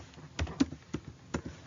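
Keys tapped on a computer keyboard while a search term is entered, four or five separate clicks at an irregular pace, close and fairly quiet, with no one talking.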